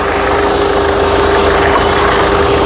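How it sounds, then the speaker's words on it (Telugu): A loud, steady engine idles with a constant low rumble and a faint tonal hum, unchanging throughout, from a 2019 Ford EcoSport Titanium car. "ఇంజన్ యొక్క నాయిస్ సైలెంట్గా అయితే ఉంది"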